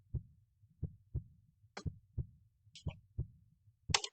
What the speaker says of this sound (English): So this is like a heartbeat.